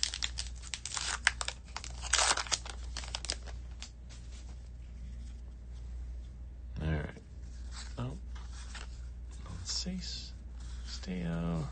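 Foil wrapper of a 2025 Topps Heritage baseball card pack tearing and crinkling up close, a dense burst of rustling for about three seconds, then quieter handling while someone talks.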